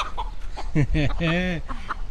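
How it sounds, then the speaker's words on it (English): Chicken clucking up close on a farm while someone is catching the birds, a few short harmonic clucks in quick succession with background noise and possible voices nearby. "They got a fast chicken there."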